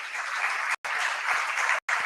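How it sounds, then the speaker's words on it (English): A crowd claps loudly and steadily, broken by two brief moments of silence where the recording cuts out. "Please, can we give a round of applause for him?"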